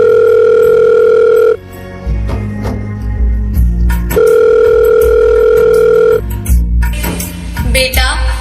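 A telephone tone sounds as a call is placed on a school annual day stage, with two steady, loud tone blocks separated by a gap. Steady low hum and background noise run throughout, with no speech.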